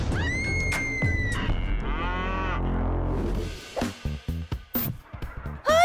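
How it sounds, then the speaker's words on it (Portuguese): A cow moos in a series of long, drawn-out lows close by, the calls sliding and groaning one after another before giving way to clattering, bumpy sounds near the end. "Isso é uma vaca?"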